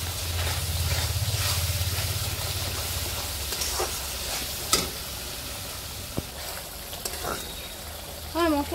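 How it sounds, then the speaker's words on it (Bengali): Spice paste with a little sugar stirred and fried in hot oil for a Bengali pabda fish curry, giving a steady close sizzle with scraping stirs and occasional clicks of the spoon against the pan. "এখন মশলাটাকে আমি ভালোভাবে কষিয়ে নেব।"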